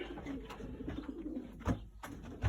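Pigeons cooing in an old-bird and breeding section of a loft, soft low repeated coos close by, with a couple of louder thumps or flutters breaking in.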